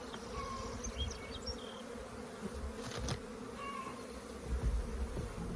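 Honeybees swarming over frames packed with bees during a hive split, a dense steady buzzing close by with a few individual bees droning past.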